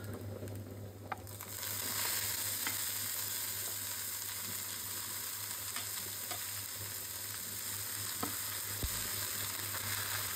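Greens (kalai shaak) dropped into a hot pan, a steady close sizzle hissing alone for about ten seconds with a few faint clicks of stirring, no talk.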